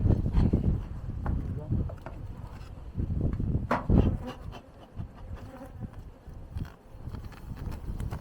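Caucasian honeybees buzz busily around hives in a dense, fluctuating drone, with wind gusts and occasional movement noises close by.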